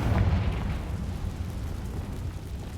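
Deep, rumbling fiery blast from the Confringo spell in Hogwarts Legacy, loud and sustained, its low roar slowly decaying over a few seconds with no talking.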